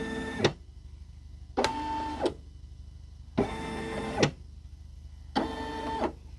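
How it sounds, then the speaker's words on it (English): A Brother SE1900 embroidery machine stitches out a bearded dragon design in four short bursts of rapid mechanical whirring, each lasting about a second, separated by quiet pauses, close by and alone. "let's see where it's going to stitch first"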